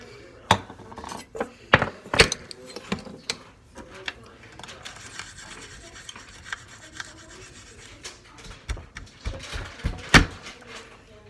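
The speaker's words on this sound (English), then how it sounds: "Now, keep the small knife. Just put the knife away." A small kitchen knife is set down and put away on a cutting board, giving sharp clinks and scraping rubs with a few louder knocks, close by, amid quiet kitchen cleanup with no talking.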